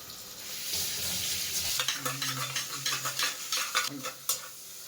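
Onions salted for sambar rice sizzle in a hot pan, a soft frying hiss that turns into repeated scraping stirs of a spoon against the metal, close and moderately loud with no talking.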